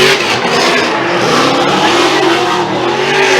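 A Formula Drift car at Palm Beach roars at sustained high revs through a drift run, the engine loud and steady with tire squeal woven in, no voices heard.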